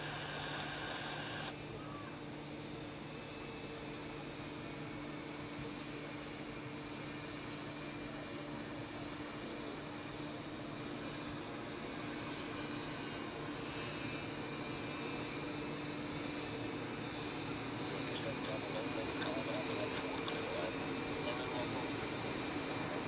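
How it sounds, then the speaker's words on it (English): A Swiss Airbus A340 departing Zurich and slowly climbing out produces a distant, sustained engine roar that swells gradually over twenty-odd seconds, with a faint low hum and some wind underneath. "are you ready for the first A340 departure today? The Swiss flight 188 to Shanghai. Let's see how slowly he climbs out."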